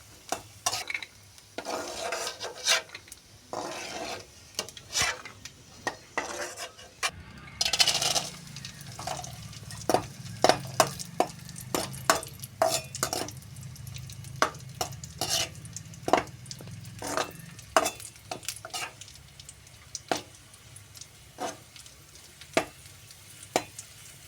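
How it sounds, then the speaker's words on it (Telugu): Cashews fry lightly in a pan for a home birthday meal. Soft sizzling runs under sharp clinks and scrapes from a stirring utensil against the pan, irregular and close by, with no talking. "జీడిపప్పు వేయించుకున్నామండి. లైట్గా వేయించుకుంటే సరిపోతుంది."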